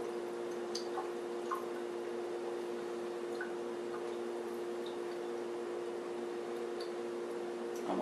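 Tuna draining from an opened can in a home kitchen, a faint dribble and a few soft drips over a steady low hum, with no talking.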